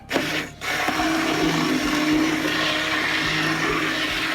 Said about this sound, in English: Gonna get that immersion blender. We're gonna cut down all those plum tomatoes.